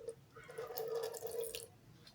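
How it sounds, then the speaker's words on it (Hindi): Oil is poured into hot sugar syrup, giving a short, quiet liquid trickle and splash that lasts about a second. No one speaks. "ऑयल ऐड कर देना थोड़ा सा,"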